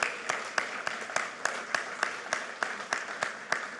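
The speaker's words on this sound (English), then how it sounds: "Give them a big round of applause." Audience applause at a speech at a data center, a fairly quiet, sparse round of clapping with distinct individual claps at a steady rhythm, heard from a distance.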